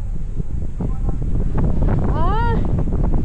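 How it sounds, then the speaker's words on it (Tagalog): Strong wind roars and buffets the microphone in Malico in a loud, continuous rush, with a voice briefly calling out partway through. "Lakas pa man ang hangin."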